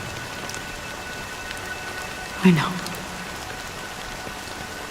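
Steady rain falls as a broad, even hiss throughout, with a brief spoken phrase around the middle and faint background tones.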